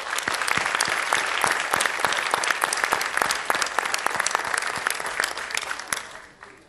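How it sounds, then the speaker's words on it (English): Applause from the audience at a school board candidate forum: a dense, steady wash of many hands clapping that continues for several seconds and then tapers off at the end. "Everybody deserves a big round of applause."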